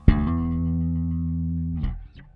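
Bass guitar played slap style with a left-hand slide and hammer-on: a sharp attack, then a sustained note that slides in pitch, followed by a quick hammered note, close and clear.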